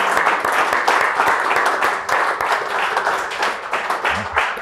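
An audience in a sports bar applauds at a live public recording of a sports talk show, the clapping dense and sustained throughout, loud and close with no break.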